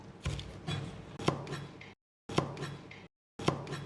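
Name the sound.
knife chopping scallions into segments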